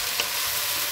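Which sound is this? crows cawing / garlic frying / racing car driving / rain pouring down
garlic frying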